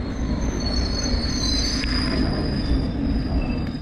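A London Underground tube train at Westminster station rumbles loudly and steadily, with a sustained high metallic wheel squeal riding over the low roar throughout.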